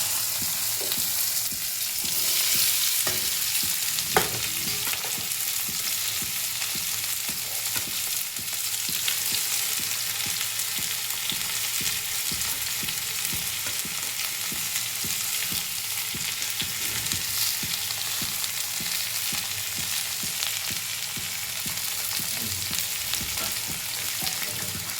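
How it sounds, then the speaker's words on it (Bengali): Okra (bhindi) frying in a pan: a loud, continuous, even sizzle and crackle of oil for the whole stretch, with occasional stirring and no voices. "ভেন্ডিটা ভাজবো এখন।"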